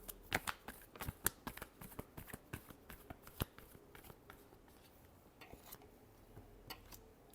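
Tarot cards being shuffled up close: a quick run of crisp riffling snaps and taps in an irregular rhythm, louder at first and then softer, with no talking.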